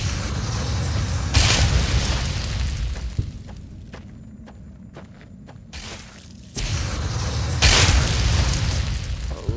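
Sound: explosions in a video game

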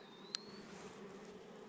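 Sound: honey bees buzzing under hive lid

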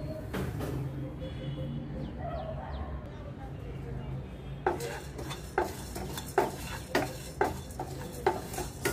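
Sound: dry roasting spices in a pan, stirring

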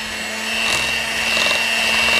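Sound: mixer beating egg into pound cake batter

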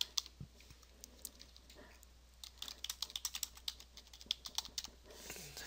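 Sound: typing a password on a computer keyboard

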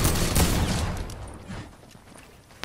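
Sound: sniper gunfire in a shooter video game

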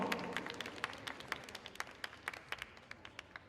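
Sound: audience applause

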